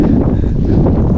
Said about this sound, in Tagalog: Ay taas ng hangin, ang lamig ng hangin.